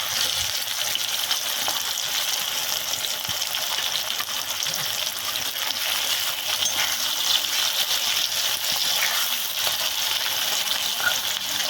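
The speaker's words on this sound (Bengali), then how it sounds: "এরপর ভালোভাবে আমরা পেঁয়াজটাকে কষিয়ে নেব।" Chopped onions for chicken curry fry over a wood fire, a dense continuous sizzle and crackle holding steady and close for the whole stretch, with no one speaking.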